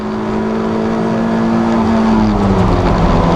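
Race cars lapping the Donington circuit during a 750 Motor Club final, a steady engine drone that holds and gradually rises in pitch as a car approaches, continuous and fairly loud with no voices.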